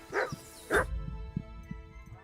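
Two sharp dog barks ring out close by in the medieval countryside of Kingdom Come: Deliverance 2, followed by soft low thuds and rustling as the animal quiets.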